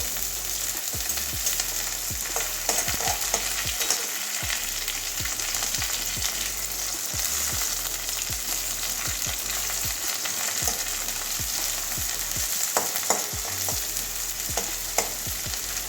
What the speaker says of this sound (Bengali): হাফ পেঁয়াজ নিয়েছি এটাও এভাবেই ভেজে নেব দুটো কাঁচা লঙ্কা এটা একটু ভেজে নেবো